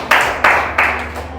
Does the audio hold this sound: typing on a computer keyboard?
no